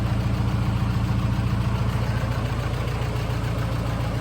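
A Volkswagen T25 camper with a TDI diesel engine idles steadily with an even, low mechanical throb, close and alone, with no speech.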